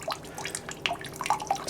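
Water draining from a cut pipe into a pot beneath a clothes washer tap, heard as close, irregular drips and small splashes that land every fraction of a second over a faint background.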